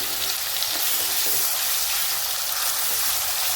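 Masala hits hot oil with garlic in a pan, giving a loud, steady, even sizzle that hisses without a break throughout.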